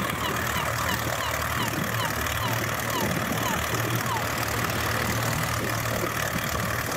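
A homemade small aircraft's engine idles steadily before its first test flight, a constant buzzing drone with a faint knocking rhythm, filling the whole stretch without pause.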